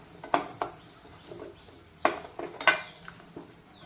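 A spoon scrapes and clinks around a pan as melting butter turns into ghee, a few sharp knocks scattered over a quiet background with no talking.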